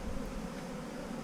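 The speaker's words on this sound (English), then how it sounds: "So I just gently brush off the rest of the bees into the box with some grass" Steady, dense buzzing of honeybees as they are gently brushed with grass into a top bar hive box, a continuous low drone close by with no voices.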